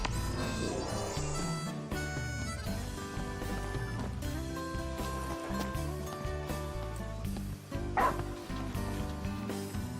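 Umbra, the small dog companion in the video game Final Fantasy XV, yips and barks over a dense, continuous orchestral score that stays loud throughout.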